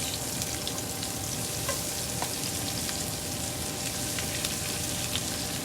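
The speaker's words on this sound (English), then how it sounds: "it's hot, so now I'm going to start adding my cabbage" Cabbage frying in a hot pan gives a loud, continuous sizzle with a dense crackle that holds steady throughout, and no voices are heard.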